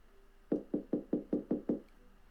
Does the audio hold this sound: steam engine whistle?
no